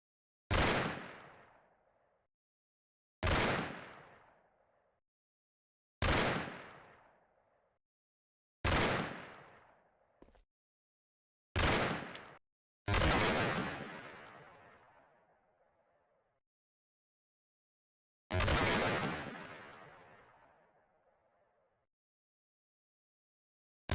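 Single loud gunshots in the game Mafia, striking surfaces, spaced a few seconds apart, each booming with a long echoing decay into silence, one double shot near the middle, no voices.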